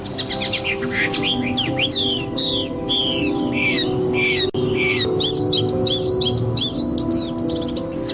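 A long-tailed shrike sings loudly and close by, a rapid series of varied chirps, whistles and harsh notes repeated over a steady background hum.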